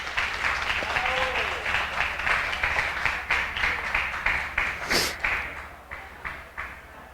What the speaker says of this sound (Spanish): Démosle un aplauso a los colaboradores.